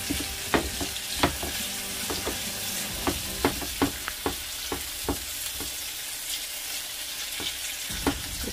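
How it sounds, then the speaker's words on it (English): Tomatoes sautéing in a pan give a steady close sizzle and frying hiss, punctuated by occasional sharp clinks and scrapes from stirring. "keep it sauteing."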